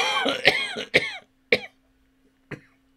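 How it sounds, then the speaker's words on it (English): A series of harsh coughs, three in quick succession followed by a fourth after a pause, close up with a faint steady hum behind. "This cough, man, this is the last thing."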